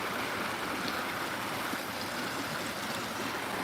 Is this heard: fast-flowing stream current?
yes